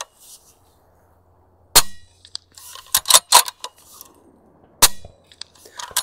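Subsonic .300 Blackout Stealth rounds fired: sharp, fairly quiet cracks, one alone and then a quick cluster, followed by metallic clinks and rattling, with near silence between.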